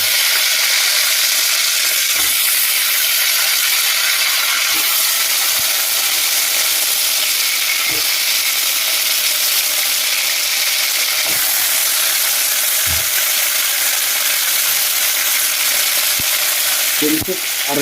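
Eggplants fry in a pressure cooker with a loud, dense, continuous sizzle, broken by occasional knocks of a spoon against the pot as the pieces are turned, and no talking.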